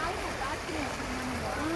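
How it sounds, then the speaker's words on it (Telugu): Rainwater running down from the hills streams steadily past, a continuous close gurgling and rushing wash with no pause. "చూడండి, వాటర్ ఎక్కువ వస్తున్నాయి."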